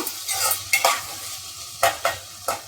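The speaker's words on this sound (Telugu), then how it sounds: "బంగాళదుంప ముక్కలన్నీ ఈ విధంగా వేగినాయండి" Potato pieces fry in a pan for a potato and yellow cucumber curry, a soft continuous sizzle broken by several sharp close scrapes of a stirring spoon, no talking.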